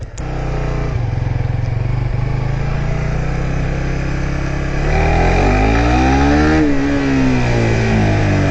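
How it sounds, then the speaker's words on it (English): A Suzuki GSX-R150 motorcycle engine roars steadily up close, then the pitch swoops up and down as it revs and slows under engine braking. "It's got a nice amount of engine brake."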